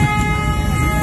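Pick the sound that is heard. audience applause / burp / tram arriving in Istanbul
tram arriving in Istanbul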